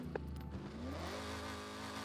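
An Italian exotic car with a race exhaust in Forza Horizon 6 revs its engine, a low rumbling idle rising into a climbing rev that sweeps upward over two seconds, fairly quiet in the mix.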